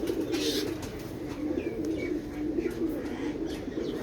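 Migratory pigeon cooing softly at a distance, a faint, low, steady murmur with a few brief chirps on top and no speech.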